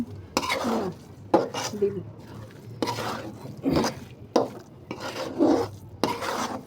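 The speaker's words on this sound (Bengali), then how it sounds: "এবার এটাকে ভালোভাবে নেড়ে চেড়ে নিতে হবে হালুয়াটার সাথে ভালোভাবে মিশিয়ে নিতে হবে" Thick carrot halwa being stirred in a pan with a spoon, giving rhythmic scraping strokes against the metal about once a second, fairly close and clear, with no talk.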